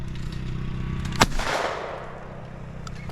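A single shotgun blast at a clay target during a shooting meet, one sharp loud crack followed by a rolling outdoor echo that fades, with no voices.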